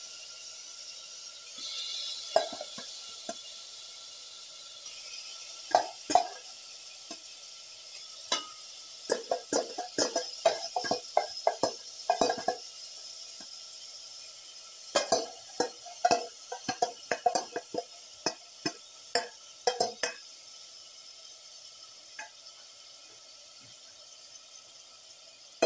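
Marinated swordfish pieces sizzling in a hot pan for a pepper garlic stew, with repeated sharp clinks and scrapes of a utensil stirring against the pan in irregular bursts over a steady low hiss.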